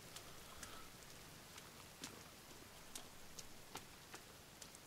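Steady rain hiss fills the scene in The Forest video game, with scattered sharp droplet ticks and taps landing irregularly throughout.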